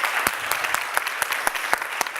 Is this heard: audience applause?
yes